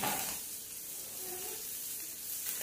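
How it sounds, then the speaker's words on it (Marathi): Sliced onion, ginger, garlic cloves, fennel seeds and two cloves roast in a pan with a soft, steady sizzle, faint and continuous with no talk. "इथे दोन उभे चिरलेले बारीक कांदे जरासा आलं त्या लसूण पाकळ्या जरासा बडीशेप आणि दोन लवंग असं मस्तपैकी भाजून घेते"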